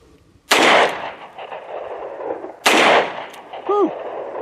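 Two sharp, loud reports from a Ruger LCR .38 Special snub-nose revolver at an outdoor range, spaced about two seconds apart, each with a brief ringing decay, followed by a short metallic ping.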